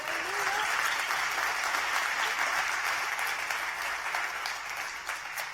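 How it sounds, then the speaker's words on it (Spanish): Church congregation applauding steadily, a dense, sustained wash of clapping hands that stays loud throughout and eases slightly toward the end. "Un aplauso a Dios si lo recibe."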